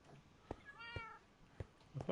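A cat in Minecraft meows with a short rising-falling call, fairly faint and alone, with a few soft clicks around it.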